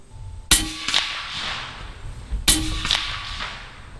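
Bintac MCAR 457 big bore sniper rifle fires hollow point rounds outdoors, two sharp cracks about two seconds apart, each with a quick follow-up impact and a short decay.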